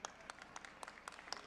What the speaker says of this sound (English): I give this to you because you're clapping.